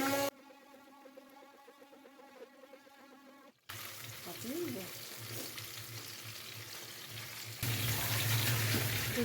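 Fish pieces shallow-frying in a pan for a fish korma, a continuous crackling sizzle that grows louder and fuller partway through, with a faint murmur of voices underneath.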